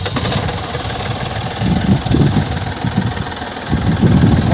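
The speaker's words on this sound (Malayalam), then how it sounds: "വണ്ടി സ്റ്റാർട്ട് ചെയ്തു." The engine of a second-hand car idles close by with a steady low rumble that swells slightly in pulses, and no voices are heard.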